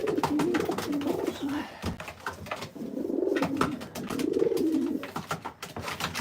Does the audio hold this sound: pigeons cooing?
yes